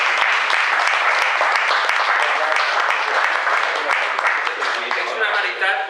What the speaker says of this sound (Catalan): jo volia demanar un aplaudiment per al conferenciant